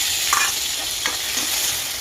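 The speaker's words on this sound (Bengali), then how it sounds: "এবার টমেটো আর লঙ্কাটা দিয়ে দিলাম।" Chopped tomato and green chili frying in hot oil in a wok already seasoned with cumin and bay leaf, a steady close sizzle with a few louder stirring scrapes and spatters along the way.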